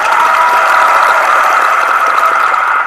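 A dense burst of crowd applause used as a sound effect, an unbroken roar of many hands clapping at a constant loud level for nearly three seconds, alone with no talking.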